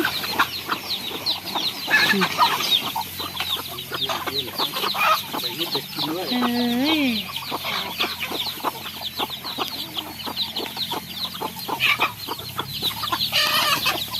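Free-range native chickens on a farm cluck loudly and continuously as a dense flock, with a rooster crowing clearly partway through.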